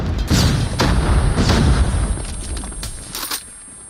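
Rapid game gunfire and a vehicle explosion in a competitive mobile shooter match, dense booming bursts and crackling shots running loud and continuous before tapering off near the end.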